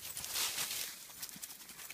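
A horse walks past on a hiking trail, its hooves clip-clopping in a soft, steady rhythm that stays faint and fairly distant throughout, with no talking over it.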